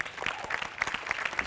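Studio audience on a Marathi TV comedy show applauds, with fairly soft but steady clapping of many hands and distinct individual claps standing out, continuing throughout.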